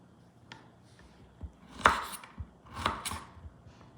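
A kitchen knife slices garlic into thin pieces on a cutting board, giving a few sparse, crisp chops and taps spaced out unevenly, close and fairly quiet, with no talking.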